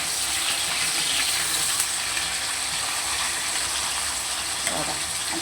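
Fish sizzles steadily in hot oil, a continuous crackling hiss spread across the whole stretch with a couple of brief pops, close and fairly even in loudness with no talking.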